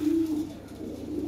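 Lahore pigeons coo in a loft, a breeding pair close by giving a low, steady throaty coo that swells at the start and runs on softly throughout.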